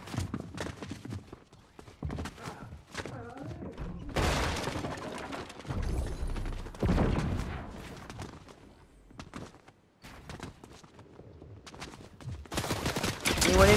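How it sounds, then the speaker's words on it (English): Fortnite gunfire bursts with heavy rapid shots and explosive booms from a turret and explosives, loud and repeated in clusters, with a player's voice heard in places. "There's no running from the explosive and the turret shooting at you at the same time."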